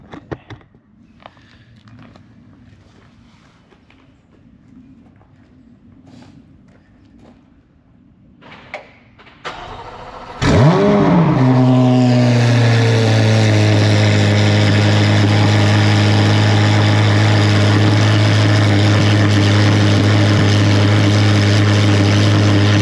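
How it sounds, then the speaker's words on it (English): A Corvette C8 Z06 with its exhaust cutout open roars in after a quiet stretch of faint ambient noise, holding loud and sustained with a deep droning tone as it passes close by. "So that's the Z with the exhaust cut out."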